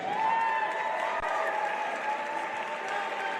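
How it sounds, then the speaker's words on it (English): An arena crowd at a mixed martial arts bout applauds the two fighters after the final round, a dense, even wash of clapping and murmur at moderate distance, steady throughout. "Ladies and gentlemen, applause for both of these outstanding fighters"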